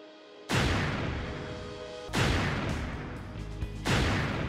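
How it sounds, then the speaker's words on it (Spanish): A ceremonial rifle volley salute closing a flag ceremony: three loud, sharp volleys spaced about a second and a half apart, each with a long ringing decay, with no talking. "Una salva de fusilería cierra la ceremonia."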